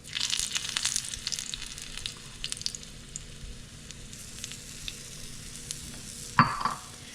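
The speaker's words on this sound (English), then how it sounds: "Now we're going to let those cook a bit until they start to set on the bottom." Takoyaki batter with tempura bits and scallions cooks in a takoyaki pan, giving a steady low sizzle with light crackles, stirring scrapes and a sharp clack near the end; no voices.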